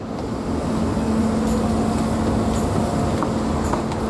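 S-Bahn S8 commuter train bound for Herrsching, a steady rumble with a low hum and faint high squeals, continuous and fairly loud at a station platform.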